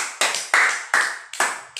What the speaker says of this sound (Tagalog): palakpakan natin si Juicy ng 5 palakpak